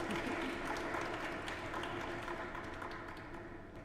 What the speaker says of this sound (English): A more enthusiastic round of applause,